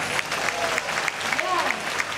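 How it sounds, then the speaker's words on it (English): An audience at a nighttime Indiana Jones stunt show at Disney's Hollywood Studios claps steadily throughout, a dense continuous applause with a few brief louder swells. "Let's give them a big round of applause."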